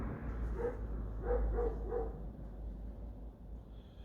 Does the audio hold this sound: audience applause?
no